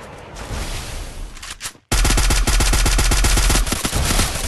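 Rapid automatic gunfire in the Free Fire battle royale game, a loud sustained burst of rattling shots after a brief dip, continuing densely with no talk.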